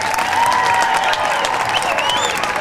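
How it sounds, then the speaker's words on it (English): An airshow crowd applauds and cheers for an F/A-18C Hornet demonstration pilot, a steady wash of distant clapping, with a public-address voice faintly audible underneath. "I want you to put your hands together so he can hear you applaud."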